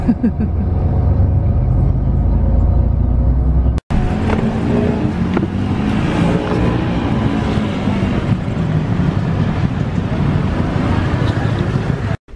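Steady street traffic in Phnom Penh, Cambodia: a continuous loud rumble of engines with wind buffeting the microphone and a few brief sharp noises.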